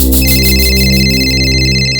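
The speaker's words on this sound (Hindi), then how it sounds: "आपका फोन बज रहा है," A phone ringtone plays loudly and continuously, a repeating electronic tone with a steady pulsing pattern and no voices.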